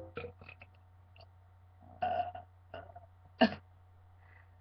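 A person burps several times without drinking soda. The burps are short, separate and close, spaced irregularly against a quiet background.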